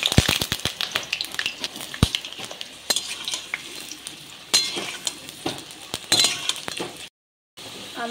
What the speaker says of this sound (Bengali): আলুগুলোকে ভেজে দিচ্ছি।